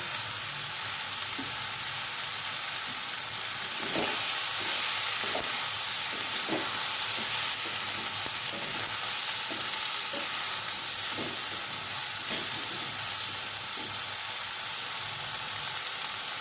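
Eggplant pieces sizzle steadily in a hot pan, a continuous frying hiss punctuated by repeated scraping taps of a stirring utensil at an even rhythm.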